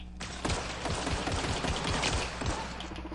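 Rapid gunfire in a space shooter game, a fast string of sharp, evenly spaced shots over a steady low hum, fairly close and heard alone without talk.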